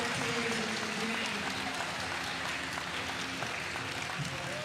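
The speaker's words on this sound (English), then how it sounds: "Getting some applause from the fans." Basketball fans at a FIBA 3x3 Asia Cup finals give steady applause that blends into a continuous, fairly faint arena crowd roar, with no clear individual claps.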